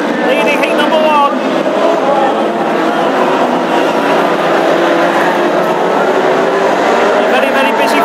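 Classic hot rods race around a track during the first heat at Hednesford, a continuous loud engine roar with passing cars blending together, with a commentator talking over it throughout.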